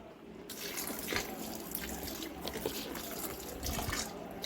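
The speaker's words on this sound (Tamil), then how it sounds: "நல்லா ஃபால்ஸில் தண்ணி இப்போ திறந்து விட்ருக்காங்க போல இருக்குது. நல்லா தண்ணி உழுது." Water rushing steadily down a waterfall at a bathing spot, a continuous close, full splashing roar that carries on without a break.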